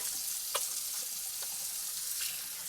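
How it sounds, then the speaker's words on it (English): Onions frying and browning in a pan for a patty melt, a soft continuous sizzle with a few faint clicks, heard alone without speech. "look at those onions. Oh, man, they are really looking great. They're browning really beautifully"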